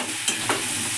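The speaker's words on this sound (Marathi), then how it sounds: "ती भाजी हलवून घ्यायची चांगली," A spoon stirs grated potato filling in a hot pan for masala dosa, a steady sizzling hiss with a couple of soft scraping strokes, close and continuous, no voices.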